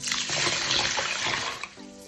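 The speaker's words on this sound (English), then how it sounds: "Next step is to put water in the bowl." Water running into a bowl holding three cups of rice, a brief steady rushing pour, fairly loud and close, tapering off near the end.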